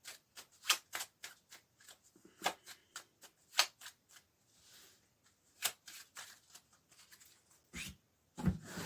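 Oracle cards being shuffled by hand, a series of crisp riffling and flicking bursts in an irregular rhythm, close and fairly quiet, with short pauses between.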